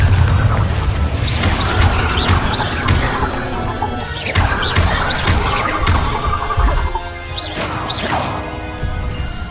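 Confringo blasting spells in Hogwarts Legacy, a loud run of crashing, booming impacts with whooshing bursts, dense and continuous, with a brief quieter gap before more blasts.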